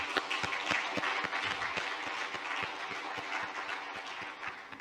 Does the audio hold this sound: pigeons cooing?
no